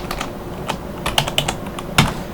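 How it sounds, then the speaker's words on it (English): Typing on a computer keyboard, a short run of irregular key clicks, close and fairly loud, with no voices. "I am now going to type in the address that I want for my user areas to be made"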